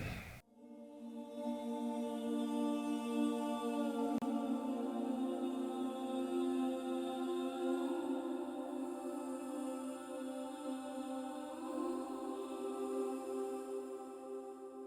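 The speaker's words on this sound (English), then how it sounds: "One is Alt Choir from Westwood Instruments using the Episodes patch" Alt Choir virtual choir from Westwood Instruments on its Episodes patch, a sustained chamber-sized vocal pad swelling in after a brief onset and holding long, soft chords that shift slowly, with no talking.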